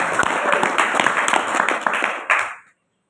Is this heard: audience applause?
yes